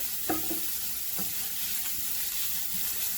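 Steady, dense sizzling of sago and rice rava frying in a pan, a continuous crackly hiss with a few faint clinks near the start.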